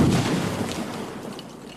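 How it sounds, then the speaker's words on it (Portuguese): A controlled black powder blast breaking grey iron rock in a quarry, set off by an electric charge: a heavy boom at the start that rolls off into a fading rumble and scattered debris. "São explosões controladas."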